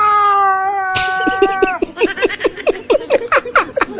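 A person's voice imitates a cat in heat yowling, a long sustained wavering wail followed by a burst and a rapid series of short, loud, rhythmic meow-like cries, close up.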